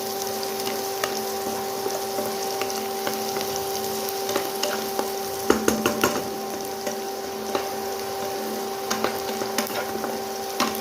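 Chopped onions frying with cumin in a pan give a steady, close sizzle with scattered crackles and occasional stirring clatter throughout, with no voices.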